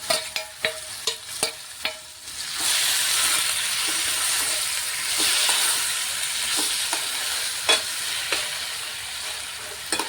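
Onion chili paste sizzles and fries steadily in a hot pan, opening with several sharp metallic clinks of a spoon stirring before a continuous loud hiss takes over, with occasional scraping taps.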